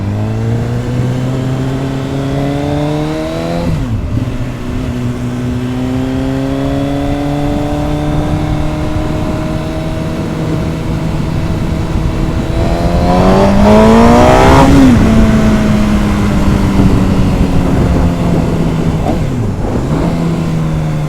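MV Agusta F4 sport motorcycle ridden on the road to a bike night, its engine loud and close, climbing through the gears with rising revs, brief drops between shifts and a big surge midway.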